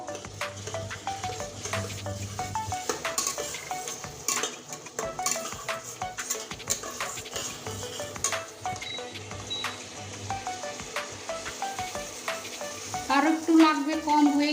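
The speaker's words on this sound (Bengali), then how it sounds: "এক চামচের মতো হলুদ গুঁড়ো দিয়ে দিচ্ছি এবার সুন্দরভাবে নেড়ে নেবো" Ghugni masala with turmeric is stirred and fried in a pan: a continuous sizzle broken by frequent quick scrapes and taps of a spoon against the pan.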